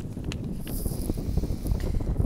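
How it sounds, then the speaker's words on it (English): Strong wind buffeting an outdoor microphone, a loud continuous low rumble with gusty swells and rustling throughout, no voices. "It's very windy, so I have to end this quickly."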